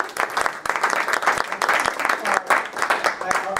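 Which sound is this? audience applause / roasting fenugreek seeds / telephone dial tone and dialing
audience applause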